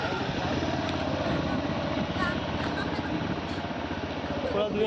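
Judges' motorbikes ride alongside runners in a 10 km road race from Marine College to Diamond Harbour, a steady close engine drone running throughout beneath continuous talking.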